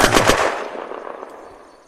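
A short burst of rapid machine gun fire from a drum-magazine weapon in the game Unturned, loud and close, several quick shots at first and then a trailing echo that fades away.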